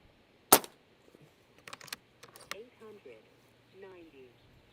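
A Komplete NCR .22 airgun fires a single sharp, loud report up close, followed by a few light mechanical clicks and quiet voices talking at a range.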